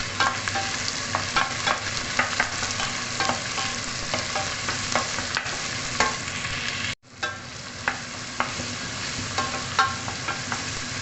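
Oil spattering and crackling in a hot pan before salmon goes in for sinigang, a dense continuous sizzle with sharp pops, briefly cutting out midway before resuming.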